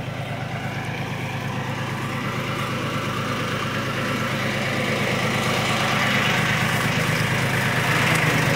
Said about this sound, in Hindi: ट्रैक्टर आ गया साइकिल हटा दूँ